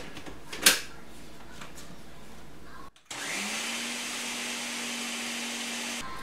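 A food processor blends cauliflower hummus, starting after a brief pause with a steady, loud motor whir that runs evenly for about three seconds before cutting off, following a quieter whirring run and a clack.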